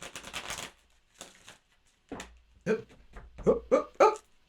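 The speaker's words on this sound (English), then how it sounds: "One more shuffle." Tarot cards are shuffled in a few quick papery bursts, close and fairly quiet, broken by short pauses, with a small dog whimpering and yipping near the end.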